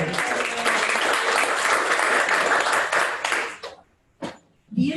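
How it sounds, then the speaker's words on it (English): Dense applause from a meeting audience thanking a volunteer, loud and sustained for over three seconds, then cutting off abruptly into near silence with a short noise burst and a voice starting at the end. "So a big thank you and a round of applause for Janet."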